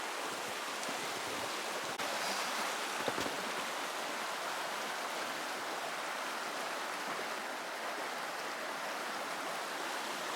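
A river flowing along a nature hiking trail, a constant broadband rush of water heard fairly close, unbroken and without voices.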